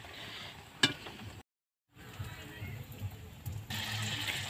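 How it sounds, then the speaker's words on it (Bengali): Puli pitha frying in hot oil: a steady, soft sizzle with a sharp clatter near the start, broken by a brief silent gap before the frying noise returns, slightly brighter toward the end. "তো চলো আমি সব ভেজে নিই।"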